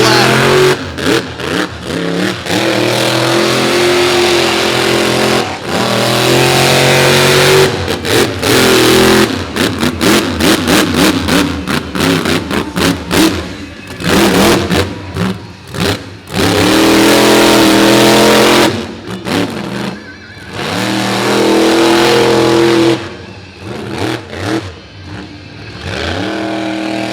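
The Bigfoot monster truck's engine roars and revs hard on a beach off-road course at Pungo, loud, close bursts of throttle cutting in and out, with crowd and announcer sound mixed beneath.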